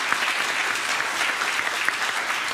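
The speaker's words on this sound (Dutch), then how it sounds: "Geef Rory een applaus, dames en heren." A late-night television studio audience applauds guitarist Rory de Kievert, a short burst of dense, even clapping heard up close with no talk over it.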